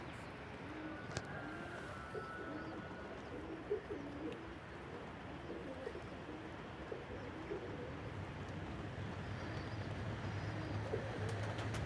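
High-flying Mikołajewskie pigeons coo softly in the distance over a steady outdoor hum, with occasional faint chirps scattered through.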